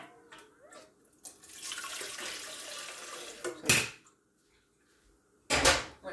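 Hot water running into and rinsing a Brita filter pitcher, a sustained hissing pour followed by two short, louder splashing bursts separated by quiet, with light clatter at the start.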